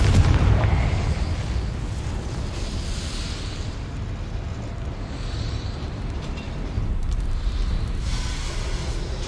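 A Confringo spell explosion in the Hogwarts Legacy video game, a heavy booming blast with a rumbling tail, followed by further rolling bursts and low crackling.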